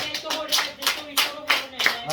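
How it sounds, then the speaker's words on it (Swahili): A church congregation claps hands loudly in a quick, steady rhythm of about six or seven bursts, close and energetic, with no voices over it. "Tupigie makofi makubwa."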